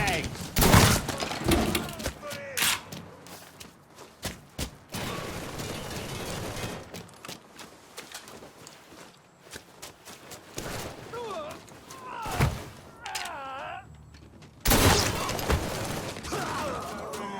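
Gunfire from Mafia 3 bursts out in dense volleys of loud, sharp shots, heavy at the start and again near the end, with mechanical clatter and a voice shouting between the bursts.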